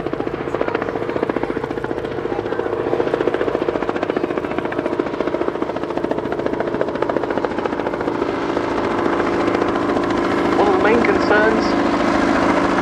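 A Bristol 171 Sycamore helicopter with wooden rotor blades runs at an airshow, giving a loud, steady engine drone and rotor beat that holds throughout, with a voice talking over it.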